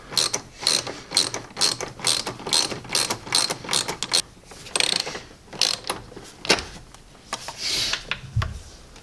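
Hand ratchet tightening a clamp on an aluminum charge pipe of a BMW F10 with N55 engine, rapid clicking bursts in quick strokes with short pauses, close and clear, ending with a dull thud.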